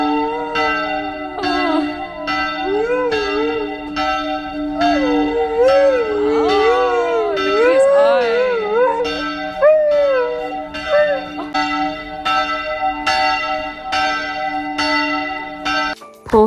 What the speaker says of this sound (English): we stumbled across this cute dog who wasn't a fan of the church bells